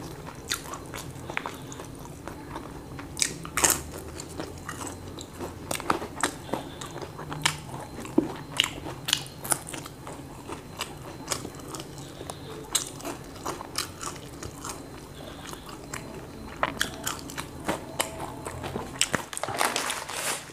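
Close-up crunchy bites and chewing of fried tempe, eaten ASMR-style, with repeated sharp crackling crunches and wet mastication over a quiet background, no talking.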